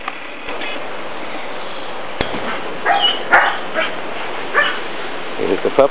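Puppies yip and whimper in short, high bursts over a steady background hiss, several cries close together, with a few sharp clicks.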